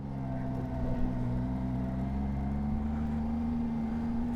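Motorcycle engine climbing in first gear on the Zoji La mountain pass: a steady, droning low engine tone held at constant revs throughout, fairly quiet and without voices.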